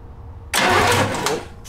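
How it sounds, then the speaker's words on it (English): A small-block Chevy V8 fitted in an abandoned 1971 Jaguar cranks after a short quiet lead-in, with a loud, close starter churn that lasts about a second before dropping off slightly. "now just bump the key real quick and then back off of it."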